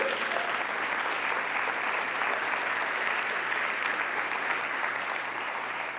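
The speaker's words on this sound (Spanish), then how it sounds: "aplaudimos todos" A church congregation claps loudly and continuously during a sermon, a dense, steady applause with no pauses.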